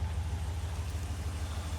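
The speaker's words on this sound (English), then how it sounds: "Let's give this thing a quick little start up and see what it sounds like on a cold start" A 2019 Ram 1500 with the 5.7L V8 idles steadily just after a cold start, a constant low rumble with no revving or voices.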